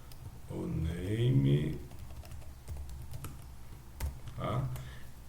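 Keystrokes on a computer keyboard as a Linux command is entered at a terminal, a loose run of soft clicks at moderate level, mostly under a voice speaking Portuguese.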